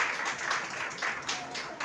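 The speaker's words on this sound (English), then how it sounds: "So a special clap also for some lovely Samriti" Audience clapping at a symposium opening, quiet and somewhat distant, a steady patter of hands lasting under two seconds with a faint voice underneath.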